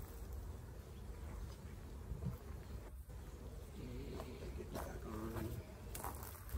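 Honey bees buzz around an open hive during honey extraction, a faint continuous hum with scattered rustles and knocks from handling.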